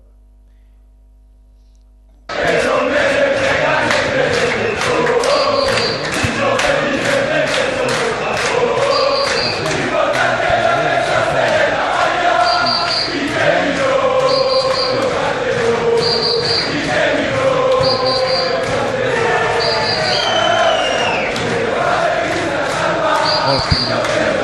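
Messina football supporters at a Messina–Salernitana match chanting in unison, a dense loud continuous crowd roar with rhythmic claps and repeated shouted phrases, captured on played-back footage.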